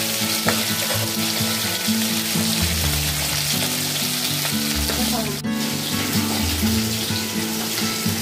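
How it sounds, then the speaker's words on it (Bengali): Fish frying in hot oil, a loud steady sizzle with crackling spatter running throughout, close and continuous. "তেলটা গরম হয়ে গেছে, মাছ কটাকে ভেজে নিন। ভাজতে দিয়েছি মাছগুলোকে।"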